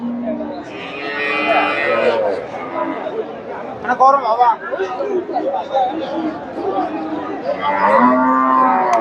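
A Friesian dairy cow moos at a crowded village cattle market in long, deep lowing calls near the start and end. Steady crowd chatter and nearby talk run underneath throughout.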